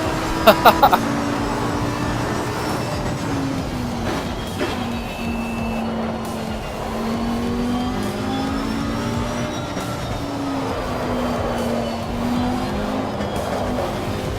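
A race car engine in Assetto Corsa Competizione climbs and drops in pitch through gear changes as the throttle is worked, with a few sharp clicks near the start and a steady mid-level roar throughout.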